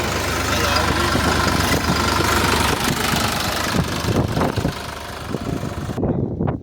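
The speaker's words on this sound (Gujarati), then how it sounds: "ત્યાંથી પાછું ટ્રેક્ટરને રિવર્સ મૂકી અને સીધું લાઈન આપી દેશે" A GPS-guided tractor's engine rumbles steadily at close range, with a knocking, idling chug throughout and a slight change near the end.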